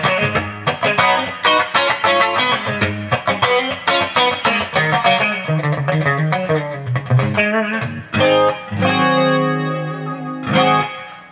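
Clean electric guitar played in quick, staccato chords and notes, washed in shimmering chorus and reverb, ending on a ringing sustained chord.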